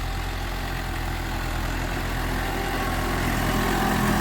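A 7610S tractor engine idles steadily and loudly up close, a constant low rumble with no change in pace or any voices.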